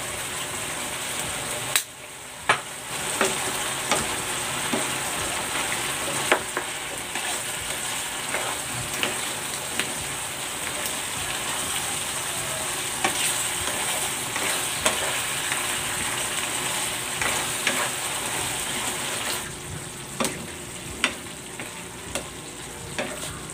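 Food sizzles steadily in a pan after salt and pepper go in, with a constant loud frying hiss and occasional sharp clanks of a utensil stirring and scraping.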